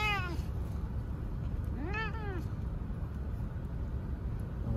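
Cat just after surgery meowing twice, a short cry at the start and a clearer drawn-out meow a couple of seconds later, over low steady road noise.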